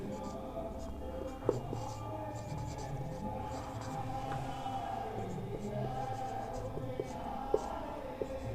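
Chalk or marker writing on a board during a biology lesson on the digestive system, steady faint scratching strokes continuing throughout in a classroom with soft background murmur.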